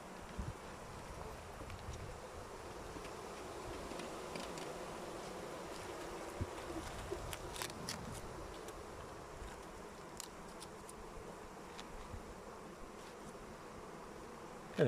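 A steady, close hum of many honey bees buzzing continuously around a hive during queen rearing, with a low drone and occasional brief clicks or bumps.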